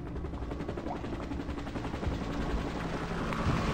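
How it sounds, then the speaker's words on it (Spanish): A helicopter gunship in the video game Half-Life 2, its rotor drone running steadily under a rapid, rattling stream of gunfire that grows slightly louder toward the end. "Cuando escucho el helicóptero,"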